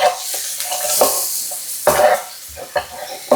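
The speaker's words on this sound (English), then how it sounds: "stir it around" A spoon stirs rice with black pepper seasoning in a pan, giving a steady hiss of sizzling with several scraping and clinking strokes against the pan, close and fairly loud.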